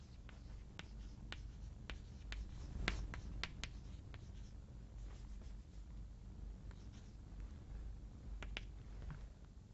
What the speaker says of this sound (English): so let me write this convention here.